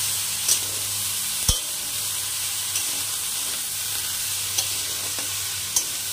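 Bottle gourd greens with green chillies being stir-fried on a gas stove, a steady sizzle and hiss with occasional sharp clinks of a spatula against the pan.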